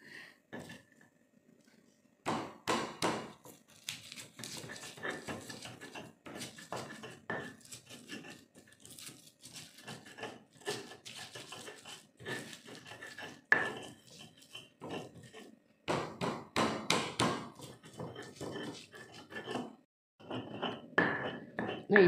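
Garlic, shallots and salt are ground in a mortar with a pestle, giving faint, irregular scraping and knocking strokes in bursts separated by short pauses.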